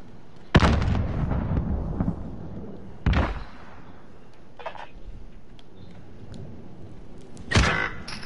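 Grenade explosions in Call of Duty Modern Warfare hardcore gameplay: three sharp, loud blasts at irregular intervals, each with a short rumbling decay, over quiet game ambience.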